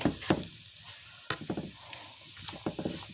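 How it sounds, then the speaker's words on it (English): Spaghetti squash sizzles in a pan as it is stirred, a soft frying hiss broken by several sharp utensil knocks and scrapes at irregular intervals, close and fairly quiet. "We're gonna get to stirring this up."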